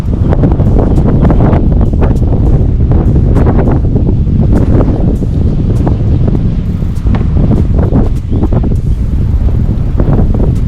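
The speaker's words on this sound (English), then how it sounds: "It's really windy." Strong, continuous wind buffets the microphone with a deep, roaring rumble and gusty surges throughout, with no voices.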